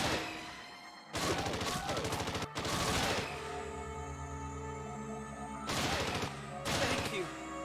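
Bursts of rapid gunfire from a lightgun shooting video game played during a Halloween stream, several loud volleys separated by short pauses, with sustained electronic game tones ringing between them.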